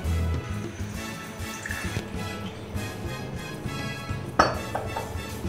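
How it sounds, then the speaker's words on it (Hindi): Water trickles and drips into a glass of pudina jaljeera with mint leaves, with faint clinks of ice and glassware, close by, with no one speaking. "अब इसमें थोड़ा पानी डाल देते हैं।"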